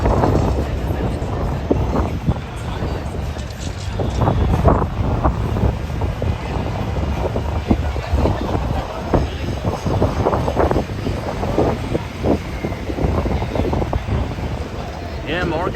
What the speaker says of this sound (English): It's really, really windy tonight.